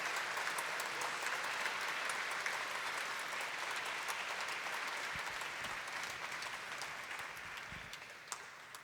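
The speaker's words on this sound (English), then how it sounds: "huge round of applause." Sustained audience applause for the LA Master Chorale and its conductors at an opening evening event, a dense wash of clapping that holds steady throughout and slowly thins slightly toward the end.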